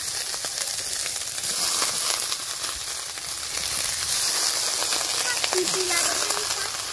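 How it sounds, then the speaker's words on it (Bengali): Ridge gourd greens and potatoes, with chopped onion and garlic, sizzle loudly and continuously in a kadai, a close, steady frying hiss with faint stirring rattles. "এই ঝিঙে শাক আর আলু বসে ধুয়ে রেখেলাম। এই কড়াইতে দিলাম।"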